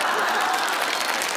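Theatre audience at a Shijiazhuang variety show of drum-song ballads, sketches and acrobatics applauds in a brief, dense burst of many hands clapping, steady and loud throughout.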